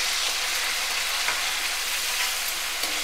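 Curry leaves and an onion and green chilli paste fry in hot oil for a tamarind-leaf fish fry, giving a steady, dense sizzling hiss that runs unbroken and close.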